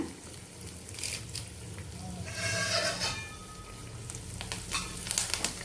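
Mustard seeds, cumin, chana dal, urad dal, three Byadgi chillies and curry leaves sizzle in hot oil for a tempering, a steady fairly quiet crackling hiss with a few brief louder spatters and light clinks.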